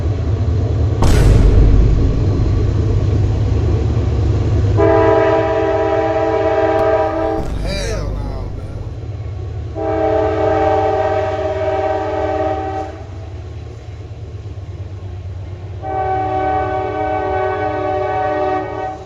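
Freight train M60312, running from Waycross, Georgia to Winston, Florida, rumbles past with a low continuous roar and clatter while its horn blasts three long, loud chords in a spaced pattern.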